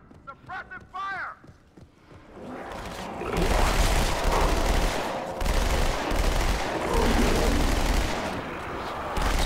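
Gunfire in the Halo 2 video game: after a brief burst of synthetic chirps, rapid automatic shots and booming blasts crackle loudly and continuously, close and dense, with voices shouting in the mix.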